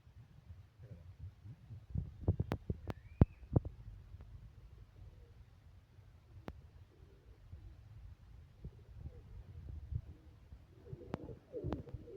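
An old Rajshahi Giribaz pigeon coos softly among faint low rumbles and a few sharp clicks and taps, quiet and close, with no talk.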